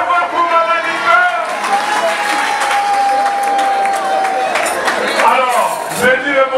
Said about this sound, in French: On applaudit très fort pour Maman Nicole.